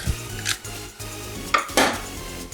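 Metal tongs clatter against the basket while a steak is flipped in an Instant Pot Duo air fryer, a few close scraping clanks and knocks over a faint fan hum.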